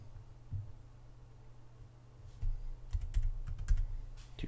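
Computer keyboard typing while setting up a PayPal subscription payment plan, a short burst of near, quiet keystrokes that clusters toward the end after a mostly quiet start.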